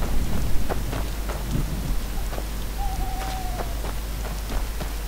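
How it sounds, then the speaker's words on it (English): Steady rain patter in the video game Skyrim, with scattered drips and a brief hooting tone partway through, continuous and fairly loud throughout. "Still raining beautifully."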